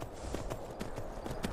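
Steady hoofbeats of a horse ridden in Skyrim, clip-clopping in a regular trotting rhythm, fairly soft and with no talk over them.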